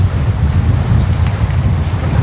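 Strong wind roars steadily across the microphone on the coast near Puerto Morelos, Mexico, with a deep rumbling buffet and a faint wash of rough water underneath.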